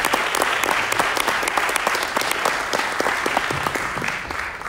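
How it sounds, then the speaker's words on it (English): An audience at a theatre talk gives a speaker steady, dense applause, many hands clapping continuously with no voices over it. "first I would ask a big applause for Norman."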